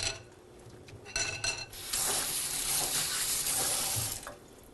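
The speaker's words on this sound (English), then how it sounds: "Now, I'm going to take this, rinse my fingers," Fingers rinsed under a running kitchen tap, a steady rushing stream of water with splashing shifts as the hands move through it, close and fairly loud.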